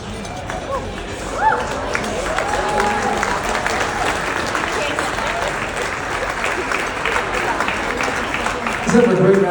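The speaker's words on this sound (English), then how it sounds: "Let's have a great round of applause for the final bride." Guests at a wedding reception applaud after a toast for newlyweds Keiko and John, a sustained wash of many hands clapping mixed with crowd chatter and voices throughout.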